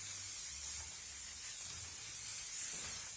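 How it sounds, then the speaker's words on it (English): Canola oil sprays from a spray bottle in a steady, close hiss that lasts throughout with no talking. "We have a lovely little spray of canola oil."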